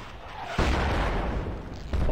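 A mortar round explodes near a bunker in Project Reality, a sudden loud, broad boom followed by a rumbling decay, with a second thump at the end.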